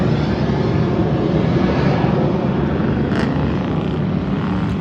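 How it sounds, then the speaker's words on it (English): An airplane passes overhead as a steady, broad roar that holds at a fairly loud level throughout, with no talk over it. "that's just plane flying by"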